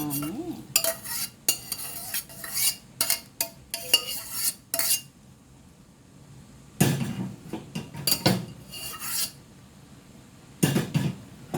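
Rice noodles for pancit bihon being tossed and stirred in a pan with a utensil, giving bursts of scraping and clinking separated by brief quiet pauses, with faint sizzling underneath.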